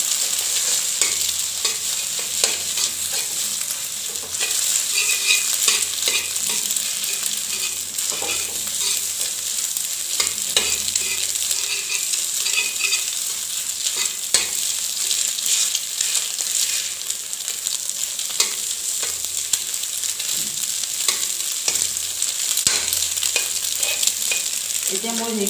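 Two eggs frying finely chopped in a pan for a dhekiya fern stir-fry, a steady bright sizzle with scattered stirring scrapes running continuously throughout, no voices.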